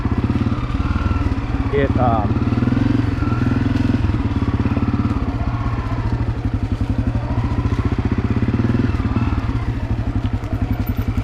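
A Honda CRF250F dirt bike rides through a fall outdoor setting, its engine a loud, close, rhythmic thumping that rises and falls, with a brief voice near the start.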